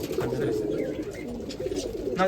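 A female patta pigeon coos in a low, continuous murmuring run close by, with faint higher bird calls and background noise around it.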